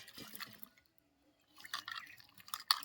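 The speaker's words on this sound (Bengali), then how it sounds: "এবারে আমি এগুলোকে ভালো জলের মধ্যে দিয়ে খুব ভালো করে এটা ধুয়ে নিতে হবে" Pieces of raw green mango being washed in a bowl of water to rinse off lime water, with soft drips and splashes in two short bursts around a quiet pause.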